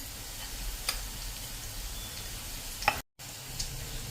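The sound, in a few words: stirring okra (bhindi) curry with turmeric and sugar in a pan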